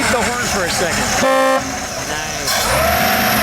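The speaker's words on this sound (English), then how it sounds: "Can you beep the horn for a second?" A single short car horn beep from a 1936 Auburn 852 Supercharged Woodie Estate Wagon sounds amid loud outdoor engine and vehicle noise.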